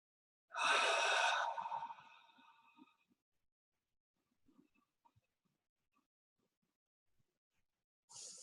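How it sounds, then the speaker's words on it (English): A long, slow exhale during a breathing exercise, one breathy rush of air that fades over a couple of seconds, followed by quiet with faint small sounds, and a second breath starting at the end. "going back to a long, slow exhale."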